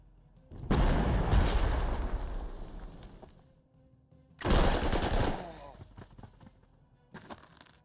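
Artillery fires in the Panzer Corps 2 video game, two loud, rumbling barrages each lasting a few seconds and fading out, followed by a fainter burst at the end.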